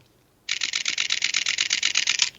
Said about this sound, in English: I'm going to just show you what the mechanical shutter sounds like